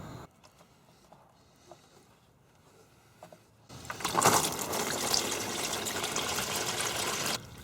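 Motor oil drains from the drain plug of a 2019 Ford F-150 with the 2.7 EcoBoost. A few faint drips come first, then a sudden steady pouring gush takes over and keeps flowing until the end.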